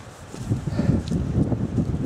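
Wind gusting across a narrow mountain trail in the Jura near Le Grand Crêt, a steady low rumble buffeting the microphone, with soft rustling and footsteps underneath, fairly loud and continuous.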